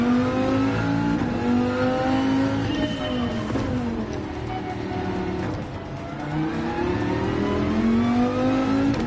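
A Viper race car in Gran Turismo 7 roars continuously and loudly, its engine note climbing, dipping through corners and climbing again as it revs through the gears, with no talk over it.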